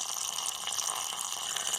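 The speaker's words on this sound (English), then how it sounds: "looks like the water's slowing down a bit" Water running out of a dug hole during a well pump installation, a steady continuous splashing trickle with no pauses and no talking.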